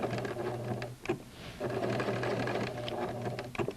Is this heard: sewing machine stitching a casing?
yes